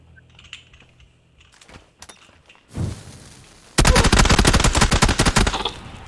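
Rapid automatic gunfire in the battle royale video game PUBG: a loud, dense burst of rattling shots fills the second half after quieter scattered shots and a thump, with no talk.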